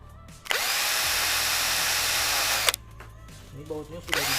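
A power drill runs loud and steady for about two seconds while unscrewing bolts on a motorcycle helmet, stops, then brief tool clicks and handling follow before it starts again.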